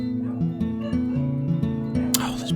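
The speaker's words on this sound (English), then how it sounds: "Oh, there's bloody dogs." Dogs barking repeatedly in the background, a run of short yips and woofs that stays at a steady moderate level across the whole stretch.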